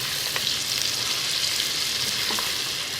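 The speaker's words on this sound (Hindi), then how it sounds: "भून लेंगे और इतनी देर भूनेंगे कि हमारी ये जो हल्दी की है ना, इसकी खुशबू आनी शुरू हो जाए" Chicken with turmeric sizzles and fries steadily in a pan for a shorba salan, a continuous close crackling hiss with faint stirring.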